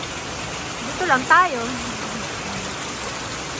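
Heavy rain falls on an outdoor deck with a constant hissing wash in the background. Someone speaks briefly over it.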